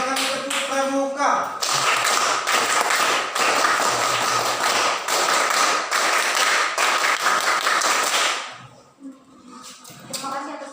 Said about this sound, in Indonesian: Tepuk tangan, tepuk tangan, tepuk pramuka.